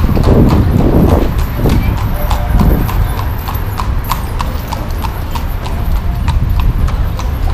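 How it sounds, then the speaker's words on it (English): Horse hooves clip-clop steadily on a street in Merida, Mexico, the regular hoof beats close and clear over traffic and city background, with a voice speaking briefly. "Look at the horsey."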